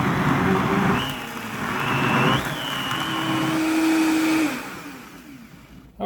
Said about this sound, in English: We'll just stick that on the blender and see if this thing can pulverize up or not.